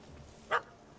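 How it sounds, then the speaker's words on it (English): In The Witcher 3: Hearts of Stone, a dog gives a single short bark, moderately loud, over a quiet, steady game ambience. "That's the dog."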